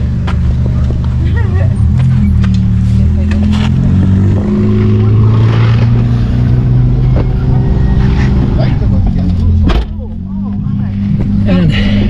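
A taxi car's engine runs close by in Mango Creek, a loud steady low hum with slight revving changes over the whole stretch, as people move and talk around it.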